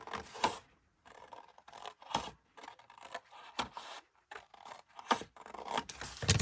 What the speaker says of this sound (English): So I'm just cutting that 1/2 inch out.